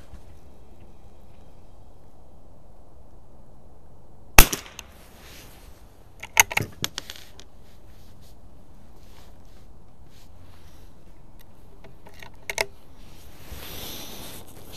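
A 1930s BSW KKW .22lr target rifle firing Eley ammunition at a range gives one sharp crack, followed by fainter clicks of handling and a distant pop later.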